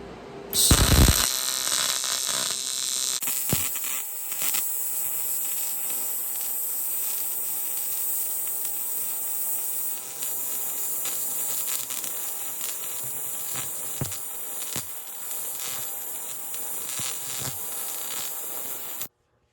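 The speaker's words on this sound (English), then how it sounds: "Now we can go ahead and start welding them in." Bungs are welded onto an engine catch can with a steady, harsh electric buzz that runs almost unbroken for nearly twenty seconds, with a few brief pops and pauses along the way.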